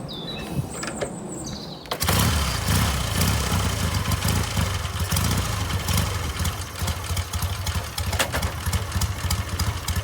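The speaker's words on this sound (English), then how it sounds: "just start the bike up and just ride it around the yard" A 1959 BSA A10 Golden Flash motorcycle starting after a short stretch of birdsong, then settling into a steady, loud, throbbing twin-cylinder idle close by, with birds still chirping faintly underneath.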